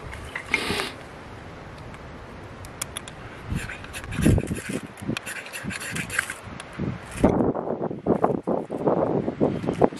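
Strong outdoor wind buffets the microphone while a fire is being started with birch bark, gusty and uneven, with rustling and a few scattered knocks and crackles.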